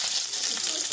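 Chopped onion frying in a pot, a steady dense sizzle that fills the whole moment evenly, close and fairly loud, with no pauses or voices over it.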